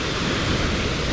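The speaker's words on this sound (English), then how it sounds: "We got a monster of a waterfall here." A massive waterfall beside a mountain bike trail in Fernie roars as a steady, dense broadband rush, close and continuous without pause.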